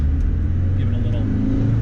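Engine of a 1992 Land Rover Discovery Camel Trophy revving, a loud, steady low rumble filling the short stretch up close.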